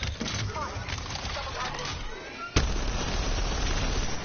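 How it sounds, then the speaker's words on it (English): A thermite grenade in Apex Legends lands with a sharp pop partway through, followed by a steady roaring hiss of burning, as a voice speaks briefly before the burst. "Throwing thermite"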